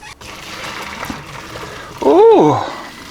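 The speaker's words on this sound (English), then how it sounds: "pour this into my strainer in the sink." Cooked spaghetti and water poured from a pot into a strainer in a kitchen sink, a short, close splash and gush under nearby talk.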